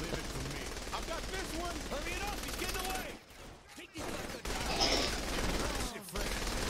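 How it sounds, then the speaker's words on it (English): Bursts of gunfire from the video game Saints Row The Third Remastered crackle in rapid fusillades beneath a voice, broken by brief quiet gaps before the shooting resumes. "I need to shoot that guy off."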